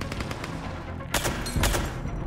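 Gunfire from a suppressor-style weapon in Mass Effect 3, with dense rapid shots throughout and two louder bursts standing out, loud and close with no talking.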